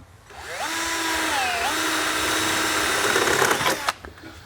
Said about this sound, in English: So we're having to drill one beside it.